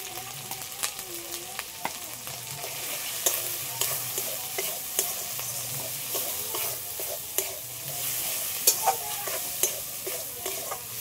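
Spices with salt and turmeric lightly frying in a pan for a fish curry, a steady sizzling hiss with frequent clicking stirs and scrapes of a spatula, close and alone without talk.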